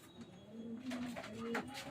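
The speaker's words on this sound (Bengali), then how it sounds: "আমার ধাড়ি পায়রার লক, যেখানে আমার ধাড়ি পায়রাগুলো থাকে।" Breeding pigeons in a loft coo softly in a few low, throaty calls, faint and nearby, with light rustling in a quiet indoor space.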